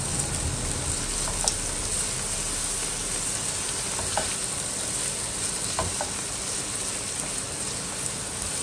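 Garlic ginger paste frying in a pan for bhindi masala, a dense continuous sizzle with a few faint utensil taps, close and steady, no talking.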